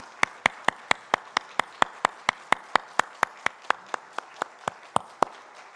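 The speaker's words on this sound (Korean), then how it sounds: "하나님께 영광의 박수를 올려드리겠습니다." Church congregation at a Sunday worship service clapping in unison, a regular series of roughly twenty sharp, evenly spaced claps with no talk over them.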